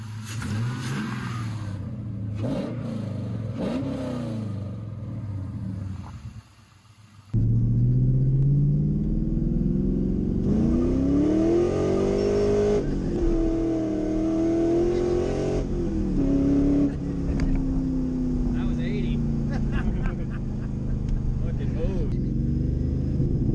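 A car engine revs repeatedly during a Seafoam cleaning treatment, loud and close, its pitch rising and falling through sustained revs after a quieter idle.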